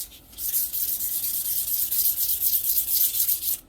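A Harvey Spooner KD80 front fork being cleaned with a cloth: brisk, close rubbing strokes in a steady back-and-forth rhythm, with no talk.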